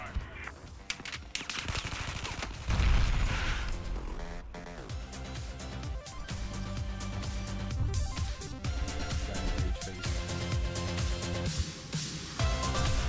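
Gunfire from the video game Battlefield 4, dense bursts of automatic fire and shots layered with game music and effects, loud and continuous throughout the passage.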